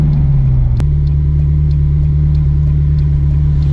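A 2003 Ferrari 360 Modena engine holds a loud, steady, close-up drone with a sharp brief blip of revs near the start, then settles into an even idle-like hum with no voices.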